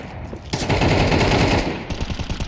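Automatic gunfire in Counter-Strike 2, a loud sustained burst of rapid shots following a brief opening moment, then trailing off into separate shots near the end.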